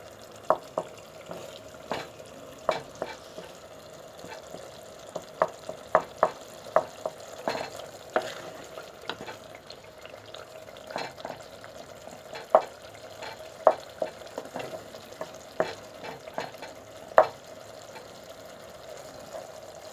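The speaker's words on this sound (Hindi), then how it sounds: "और मैं इसको सही से भून के और फिर वापस आती हूँ।" Kachnar qeema, minced meat with orchid buds, frying in a pan, with a steady low sizzle broken by repeated sharp clicks and scrapes of stirring at an irregular rhythm, close and moderately loud with no talking.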